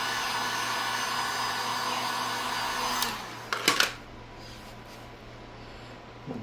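A heat gun blows with a steady loud whoosh over vinyl wrap on a plastic trike panel, then cuts off, followed by a few close rustling and tapping sounds from handling the material.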